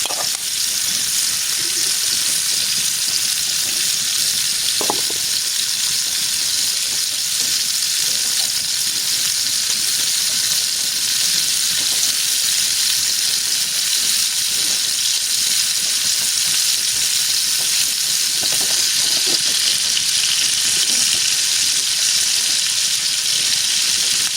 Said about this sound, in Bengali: এখন আমি মাছগুলো আস্তে আস্তে করে ঘুরিয়ে ঘুরিয়ে ভেজে নেব